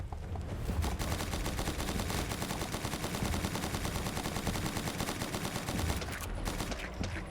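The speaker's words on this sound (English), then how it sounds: "Tommy gun, you were just so good." Tommy gun fire in a video game, a dense, continuous burst of rapid automatic shots, loud and close, running for several seconds without talking.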